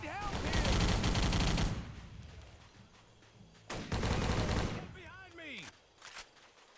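Bursts of gunfire during an ambush in Battle for the Pacific, a Guadalcanal mission in a World War II shooter video game, with dense loud volleys at the start, a second burst midway and scattered shots between quieter stretches.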